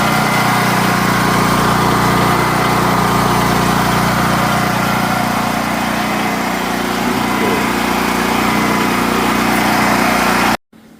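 A repaired generator engine runs loud and steady with a constant buzzing drone, alone, until it cuts off abruptly near the end.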